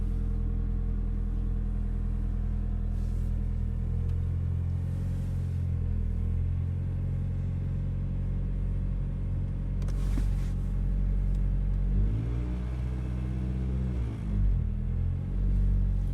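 A car's engine idles steadily after a cold start with a deep, even rumble, and its pitch wavers and rises briefly near the end, close and without talk.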